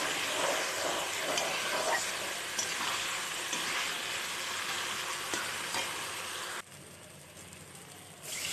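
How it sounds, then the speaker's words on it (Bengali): Fish curry masala with cumin powder sautéing in a pan with small fish: a dense, bright frying hiss fills most of the clip, with a few faint stirring scrapes, before it abruptly drops to a quieter sizzle near the end. "এবার মশলাটাকে কিছুক্ষণ কষিয়ে নেব।"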